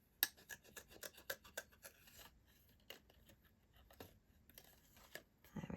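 Scissors snip and rasp through paper as little feet are cut out for a handmade journal page, a run of close, quick cuts in irregular bursts, with a soft pause midway before more snipping.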